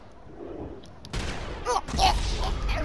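Video game gunfire erupts suddenly after a quiet start, a loud rapid volley of shots that continues to the end, with a voice speaking over it.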